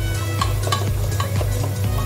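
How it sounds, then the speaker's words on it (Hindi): Masala with mashed tomatoes frying on a tawa while being stirred, with a steady sizzle broken by rhythmic scraping strokes about twice a second over a low, constant hum. "ये हमारा मसाला अच्छी तरह भुनने लगा है।"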